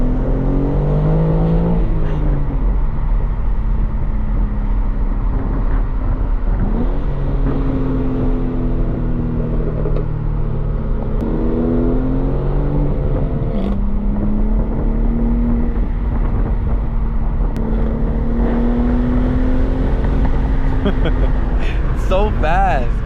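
A manual BMW G80 M3 accelerates on a canyon run, engine note rising through gears with audible pitch sweeps and drops at shifts, loud and close throughout, with a voice talking over parts of it.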